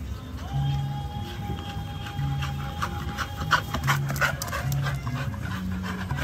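A dog pants in quick, rhythmic bursts close by, with soft rubbing and shuffling noises around it and occasional tonal beeps in the background.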